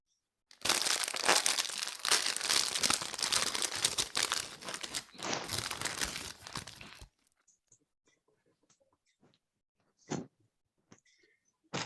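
Loud, continuous crinkling and crumpling of paper for several seconds, then stops, followed by a few scattered faint rustles and one short crackle.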